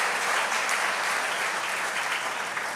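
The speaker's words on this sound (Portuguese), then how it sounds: "Palma para ele. Pode aplaudir," A church audience gives sustained applause, a dense, even wash of many hands clapping at moderate loudness for the full few seconds, with no talk over it.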